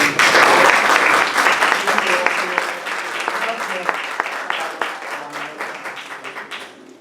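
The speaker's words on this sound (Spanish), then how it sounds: "Les pido un fuerte aplauso." An audience gives loud, sustained applause that is strongest at the start and gradually thins and fades, with voices faintly mixed in.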